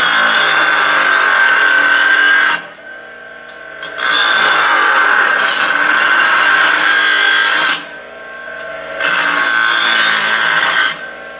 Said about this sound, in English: Let us grind. We gotta take 3 grams off this one.